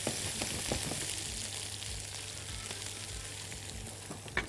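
Onions fry in a pan with a steady, moderate sizzle and occasional soft stirring scrapes, heard up close without any talking.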